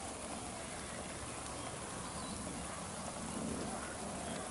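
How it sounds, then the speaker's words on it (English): Water spraying steadily onto plants in a shade garden beneath a tree, a continuous dense hiss like rain pattering on leaves, close and even throughout. "Time to water the garden."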